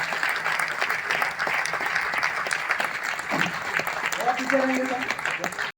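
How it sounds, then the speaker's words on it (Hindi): Crowd in an auditorium, Vishnudas Bhave Hall in Vashi, claps steadily at a business event, moderately loud applause with voices mixed in and a short tonal sound near the end before it cuts off. "जोरदार तालियां इनके लिए, सभी के लिए जोरदार तालियां"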